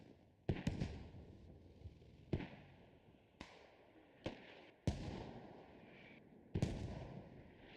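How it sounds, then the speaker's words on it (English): Mortar rounds from the video game Squad impact around a forward operating base in a competitive match, a series of about seven sharp distant booms at irregular intervals over a steady background hiss. "NH Mortars unrelenting on the fob"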